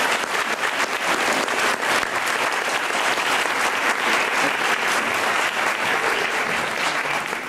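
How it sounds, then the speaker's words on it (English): Guests at an elementary school dedication ceremony applaud, producing loud, dense, continuous clapping that holds steady throughout with no talking over it. "Let's give them a round of applause."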